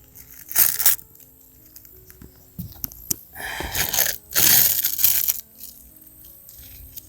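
ZIP System tape, poorly adhered in places, being peeled off wall sheathing: several close, loud tearing and crackling rips in bursts of about a second each, separated by short pauses.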